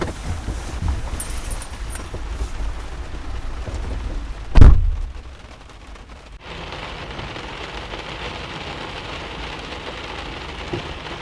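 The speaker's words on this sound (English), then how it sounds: "The rain hasn't really let up" Steady, heavy rain with wind outdoors at a service station, a dense hiss of drops hitting surfaces throughout. A single loud thump breaks in midway, then the downpour carries on a little quieter.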